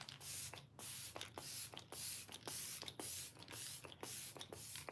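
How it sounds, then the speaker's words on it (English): Makeup Forever Mist and Matte Fixing Spray spritzed onto a face in a series of short, close, hissy pumps of fine mist, repeated in a quick steady rhythm with no talking. "let's do a little spritz of setting spray just to hold all this together"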